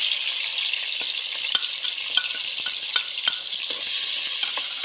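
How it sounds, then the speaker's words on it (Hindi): Spices hit hot oil for a cabbage and potato dish and set off a steady, close sizzle and crackle, with light scrapes and clicks of stirring throughout. "मैं मसाले पहले डाल दूँ, चुड़ चुड़ करेंगे फिर आवाज़ कम आएगी।"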